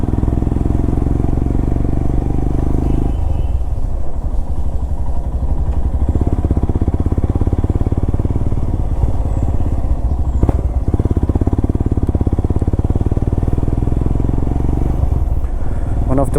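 A motorcycle engine drones steadily and loudly up close while riding along a forest road in the Bhadra wildlife area, with rumbling and faint clatter throughout.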